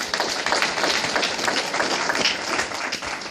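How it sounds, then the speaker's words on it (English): A crowd at a live presentation breaks into sustained, dense applause, many hands clapping loudly and evenly throughout. "Let's give Sterling a round of applause right now"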